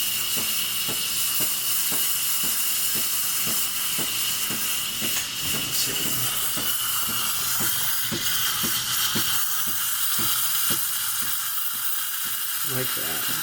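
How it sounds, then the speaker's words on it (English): Breville Barista Express steam wand frothing milk, a loud, continuous hiss with faint rhythmic gurgling and someone talking over it. "you hear that noise of the steam blowing into the milk"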